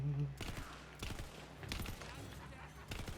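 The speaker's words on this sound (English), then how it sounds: "I don't know if I like the burst on an SMG." Short SMG bursts crack out in Tiny Tina's Wonderlands, several clustered groups of rapid shots spaced across the moment, fairly faint and close together, with a brief tone at the start.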